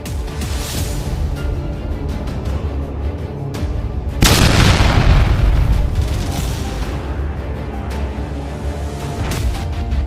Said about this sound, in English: The bomb rendered a tremendous explosion and brought a colossal damage.